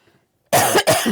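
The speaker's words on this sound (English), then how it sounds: "Cough, cough." Two sharp coughs close to the mic after a moment of silence, loud and abrupt.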